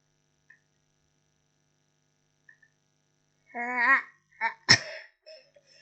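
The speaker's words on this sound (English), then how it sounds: "I'm gonna sneeze." A short voiced intake of breath builds up, then a sharp sneeze bursts out in near silence.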